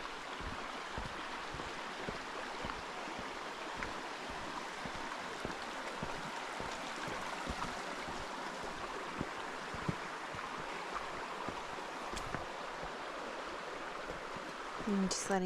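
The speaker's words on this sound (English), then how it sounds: "I'm just letting you guys take in the sounds, especially of the beautiful water." Steady rushing water from a nearby mountain stream on the Stanley Glacier trail in the Canadian Rockies fills the air, constant and even, with faint ticks and a slight swell at the end.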